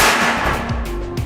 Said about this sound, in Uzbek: Spirt solib, ichini yoqsam, bu kengayib portlaydi